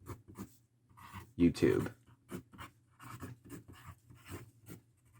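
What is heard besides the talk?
writing a secret message on a paper envelope card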